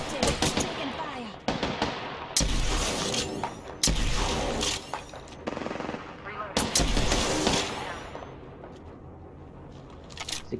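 Rapid bursts of automatic gunfire in the Apex Legends battle royale game, loud crackling volleys broken by short pauses and followed by a fading tail, with game voice lines spoken over the shooting.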